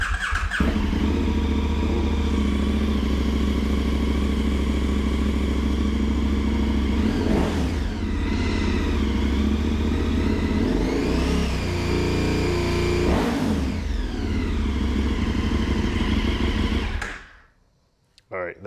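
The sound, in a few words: KTM 1290 motorcycle running with Arrow Sonora exhaust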